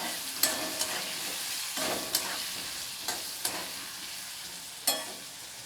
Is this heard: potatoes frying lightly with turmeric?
yes